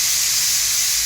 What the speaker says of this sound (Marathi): कुकर लावलेला आहे, मस्त छान अशा 2 शिट्ट्या घ्यायच्या